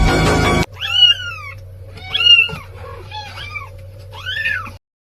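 A cat meows repeatedly, four drawn-out, rising-and-falling cries spaced about a second apart, close and loud over a low steady hum, after a brief burst of other noise at the start.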